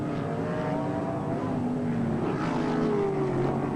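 Sprint cars racing on a wet, slippery one-third-mile dirt circuit at over 100 mph during a 1989 New Zealand championship at Meremere, their engines making a steady loud roar with rising and falling tones as cars pass.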